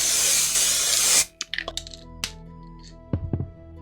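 A short, loud hiss of aerosol spray paint aimed straight down onto a board, then a few light clicks and knocks as the can is set down.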